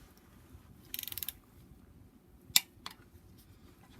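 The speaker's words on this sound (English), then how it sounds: "So we're gonna torque this thing first level of torque." Flywheel bolts on a BMW N54 engine are torqued with a ratchet, giving a quick run of clicks followed by a sharp metallic snap and a fainter click, close up in a quiet workshop.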